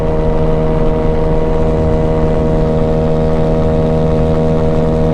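Honda Ruckus scooter engine drones loud and close under acceleration, a steady buzzing tone with wind rushing over it throughout.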